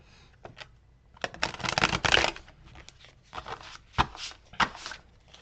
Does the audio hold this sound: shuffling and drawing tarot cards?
yes